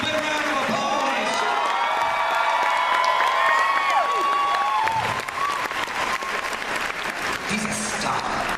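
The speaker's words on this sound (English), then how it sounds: "Big round of applause." An audience at a Firefly Q&A panel at Wizard World Philadelphia 2014 bursts into loud sustained applause with cheers and whoops, clapping filling the room for several seconds before tapering slightly, with some voices shouting over it.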